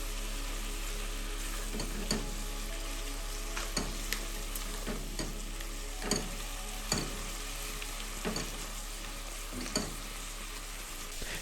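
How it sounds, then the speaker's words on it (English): Ingredients for Persian pomegranate soup, with turmeric and cumin added, frying in a pot: a continuous close sizzle broken by repeated spoon strokes and scrapes every second or so, with no voices. "Stir and let it cook for 30 to 60 seconds."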